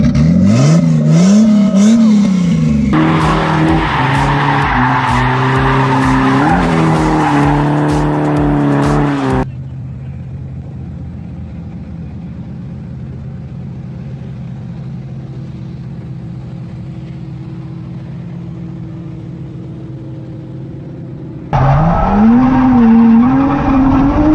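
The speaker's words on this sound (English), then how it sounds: "Rev it up, rev it up." A Nissan 240SX fitted with a 1JZ VVTi engine revs hard at close range, rising and falling engine howls, then a steady lower idle before another loud rev climbs at the end, in a snowy setting.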